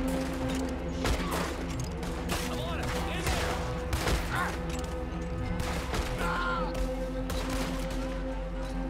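Machine gun fire and other gunshots in Red Dead Redemption 2 at night, dense rapid bursts and impacts over a constant background hum, with game sounds mixed in throughout.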